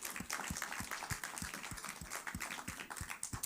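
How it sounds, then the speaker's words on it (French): A church congregation applauding after a Sunday message, a faint, rhythmic run of roughly ten evenly spaced claps heard at a distance against a quiet room. "peut-être on peut juste applaudir tous les jeunes qui étaient là"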